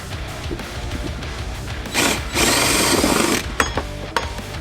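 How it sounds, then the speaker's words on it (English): A borrowed power drill works on removing a bracket from a Reliant car, with quiet handling noises first and then a loud steady whir for about a second and a half, followed by short clicks and bursts. "I had to borrow Tim's drill."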